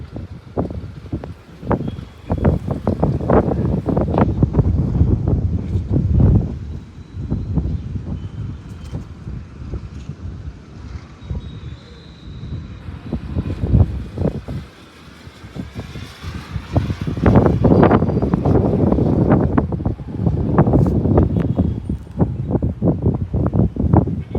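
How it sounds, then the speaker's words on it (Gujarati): Strong gusty storm wind in Kamrej, Surat, as rain begins, roars and buffets the microphone in surges, rising and falling in loud rumbling waves throughout. "ફૂલ પવન છે અત્યારે."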